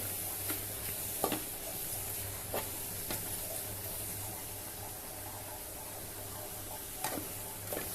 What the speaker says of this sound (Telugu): ఇలా నీళ్ళన్నీ ఇనికిపోయే వరకు ఉడకబెట్టుకోవాలి